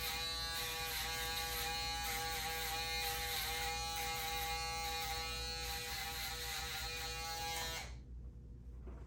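Hair clippers set to the barber side run in a loud, steady, close electric buzz for about eight seconds before switching off into near silence.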